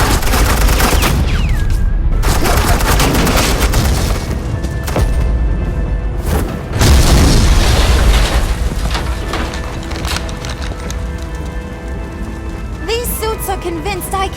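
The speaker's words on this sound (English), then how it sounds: "suppressing fire" Gunfire in a Batman game scene: a dense, sustained burst of suppressing fire with booming impacts, loud and continuous through most of the stretch, with a brief lull and a rattling tail near the end.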